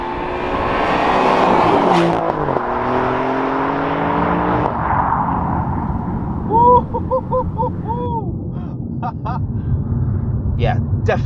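Alfa Romeo Giulia Quadrifoglio in race mode, second gear, engine revving hard with rising harmonic roar through upshifts that fades to a lower drone, with a voice exclaiming and brief chirping tones near the end.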